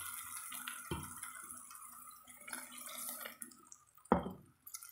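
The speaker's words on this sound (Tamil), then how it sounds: "இந்த மிக்ஸி ஜார்லேயே கொஞ்சம் தண்ணி சேர்த்தி கலந்துக்கிறேங்க" Water is poured into a mixer jar holding ground masala. Two quick splashes and pours stand out against soft kitchen clatter and trickling.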